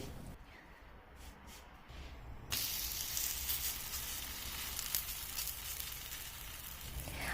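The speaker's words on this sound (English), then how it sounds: "I add in oil and make aloo parathas" Aloo parathas fry in oil in a pan. After a few seconds of quiet rustling, a loud, steady sizzle starts abruptly and crackles on close by without pause.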